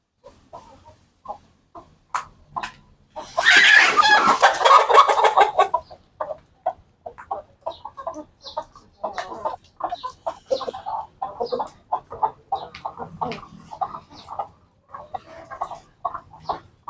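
Chickens cluck nearby in short, scattered bursts, with one loud squawking outburst early before the soft clucking continues.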